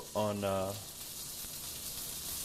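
Chicken frying to a crispy brown coating gives off a steady, moderate sizzling hiss that runs throughout, with a brief voice heard near the start.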